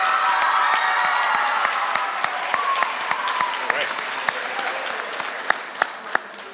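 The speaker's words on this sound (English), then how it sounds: "Can we please clap for Mrs. Case and our CMS orchestra" An audience at a middle school Veterans Day program applauds, a dense wash of clapping that thins into scattered, sharper individual claps toward the end.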